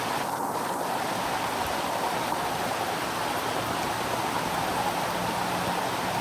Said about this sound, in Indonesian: Hujan begitu lebat ya.